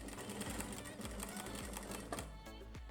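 A sewing machine stitching a jacket runs fast and steady, its rapid needle rhythm driving on throughout, with a voice talking over it.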